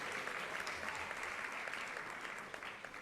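Steady applause from a large audience at a temple fundraiser in New York, dense and continuous clapping that fades slightly toward the end.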